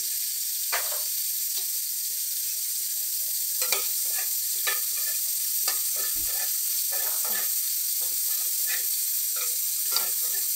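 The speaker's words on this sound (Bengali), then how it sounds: "আমি জিরে ফোড়ন, লঙ্কা ফোড়ন, তেজপাতা, লঙ্কা আর জিরে দিয়ে দিলাম ফোড়ন" Cumin seeds, dried red chili and bay leaf tempering in hot oil for a rice and lentil khichuri, giving a steady close sizzle with scattered crackles and spoon scrapes, no one talking.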